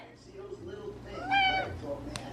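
A cat gives a single short meow nearby amid soft background murmuring and faint speech-like sounds.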